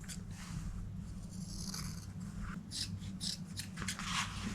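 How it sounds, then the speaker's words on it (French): Scissors cut a strap from brown leather, a close run of crisp, repeated snips and rasping strokes that continues steadily with no talking. "Maintenant, j'ai du cuir brun. Je vais couper une lanière."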